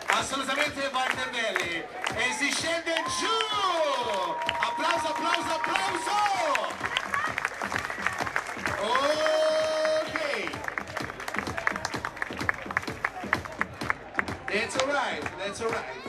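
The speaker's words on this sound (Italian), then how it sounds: "assolutamente Walter Belli, e si scende giù, applauso!" Crowd applause and cheering at an outdoor trial bike show in Marina di Ragusa, a dense clatter of clapping lasting throughout, mixed with an announcer talking over a loudspeaker and some tonal sounds.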